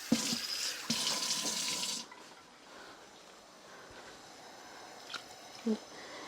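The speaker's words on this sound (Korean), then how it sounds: "이제 물을 넣겠습니다." Running water pours from a tap into a pot for Korean beef and radish soup, a steady splashing rush for about two seconds before it cuts off, leaving quiet kitchen noise with a couple of small knocks.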